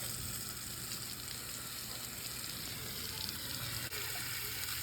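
Water running steadily from a garden tap feeding an expanding hose in memorial gardens, a continuous hissing flow with no pause, fairly faint and without voices.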